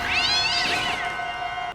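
A black cat in a tense movie scene gives one long, loud, drawn-out meow that rises and falls, close up and alone, then cuts off abruptly.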